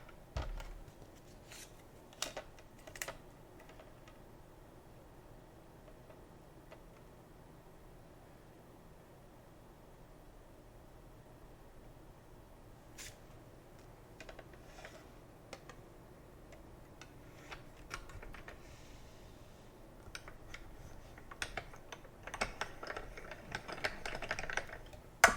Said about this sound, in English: I'm going to start cutting out these hearts.